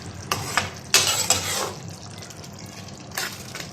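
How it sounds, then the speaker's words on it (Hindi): Potato and cauliflower aloo gobhi stir-fried in a pan, with scraping spoon strokes against the metal and a soft sizzle underneath, a few louder stirring bursts close by. "अच्छे तरीके से भून लेंगे।"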